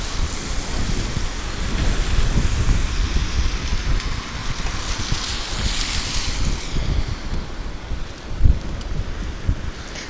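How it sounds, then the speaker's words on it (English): Strong wind buffets a rainy morning street, roaring steadily with gusty swells and rumble on the microphone, with no voices, only a brief thump near the end. "And you see we have wind as well."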